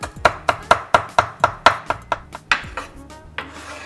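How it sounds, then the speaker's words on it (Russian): A knife finely chops a small bunch of parsley on a board, about ten crisp, evenly spaced strikes followed by a few slower, softer cuts, close and with no talking. "Небольшой пучок петрушки нарезаю мелко"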